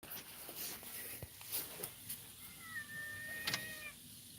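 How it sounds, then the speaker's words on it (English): A cat meowing outdoors, heard from indoors as a single drawn-out, rising meow that is fairly faint against a quiet background with a few soft knocks. "I believe there's a cat outside meowing at me."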